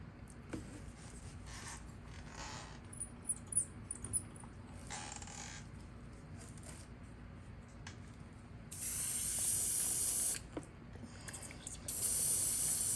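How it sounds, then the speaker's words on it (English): An airbrush is sprayed out during cleaning after painting a custom armor and rivet fishing lure. Two bursts of steady airy hiss come close up, with small clicks and handling sounds against a quiet background hum. "I'm gonna clean my airbrush out."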